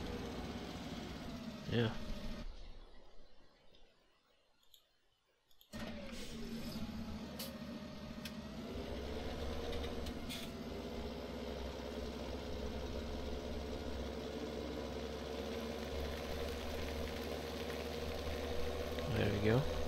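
A tractor reversing in the Farming Simulator 2017 video game runs with a steady, low engine drone, dropping away briefly before resuming, while a voice speaks over it.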